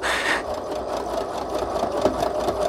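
A sewing machine stitches paper trim with a continuous fast mechanical whir and chatter, close and steady throughout, with no talk.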